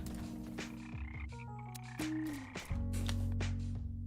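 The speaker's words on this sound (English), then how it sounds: "did I add the ribbit sound effect?" Cartoonish frog ribbits and croaks from a Godot-made video game repeat several times over quiet game music, clear and close with no talk.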